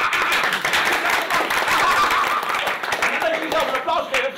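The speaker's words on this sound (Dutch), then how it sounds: "En als je moet lachen, dan geef je jezelf een applaus." An audience claps for itself at a comedy talk, a busy, fairly loud patter of hands that runs the whole time and rises and falls a little, with some crowd noise mixed in.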